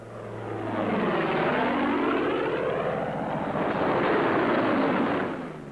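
Thunderbolt fighter planes flying low past an airfield and peeling up to land, a loud sustained propeller-engine roar swelling and passing with a shifting drone, no voices.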